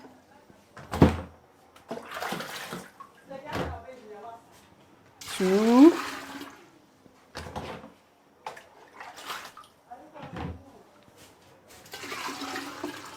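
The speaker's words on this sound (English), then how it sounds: "So just pour water in the clay pot." Water is poured from a container into a clay pot in several separate bursts of splashing and gurgling, close and moderately loud, with a person speaking between the pours.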